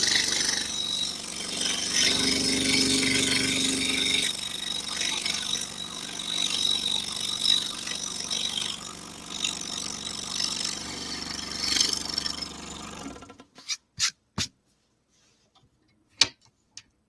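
A scroll saw cuts a wooden portrait by hand, giving off a continuous buzzing, rasping whir close by that stops abruptly, followed by a few sparse knocks and clicks.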